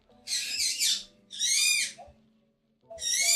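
A pet bird gives loud, bright calls in three noisy bursts. Each lasts about a second, with short pauses between them, and it sounds close to the microphone.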